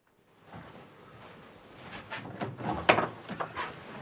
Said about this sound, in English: opens his front door to a stout, suited man